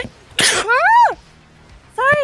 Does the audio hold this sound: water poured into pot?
no